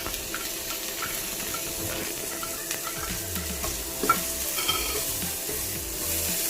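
Diced carrots stir-fried for Yangzhou fried rice, a continuous close sizzle broken by scraping spatula strokes and scattered clinks of metal on the wok, with no talking.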